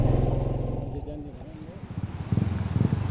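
A motorcycle is parked on the new road to the Curug Sawer waterfall via Cinumpang. Its engine chugs close by in a low idle, then gives throbbing pulses as it moves, with wind buffeting the microphone.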